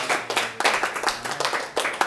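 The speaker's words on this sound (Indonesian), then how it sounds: "Berikan sorak-sorai buat taat." A church congregation claps and cheers together, bursts of hand claps rising and falling in uneven waves throughout, loud and close, with a crowd roar underneath and no clear speech.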